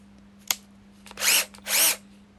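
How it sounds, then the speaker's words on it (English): Two short bursts of a new power drill driving screws into an arcade cabinet, whirring up and down, preceded by a brief click, with a steady low hum underneath. "I treated myself with a new drill"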